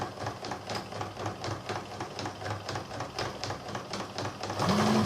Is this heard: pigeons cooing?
no